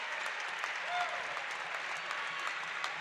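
A crowd at a women's college basketball game, Hope College versus Calvin College, gives a sustained ovation, steady dense applause filling the arena for the whole stretch.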